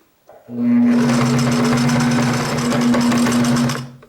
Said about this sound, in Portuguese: essa falha eu só dobro, prendo um alfinetinho aqui em cima e vou fazer o pesponto.